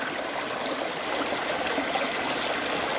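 Water streams steadily through a gold panning sluice on a small New Hampshire river while the sluice is cleaned out, a continuous close, loud rush and trickle with no pauses.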